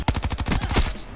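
Rapid burst of automatic fire from an MX9 submachine gun in Black Ops 4 multiplayer, a dozen or so evenly spaced close, loud shots over about a second with a sharp crack near the start.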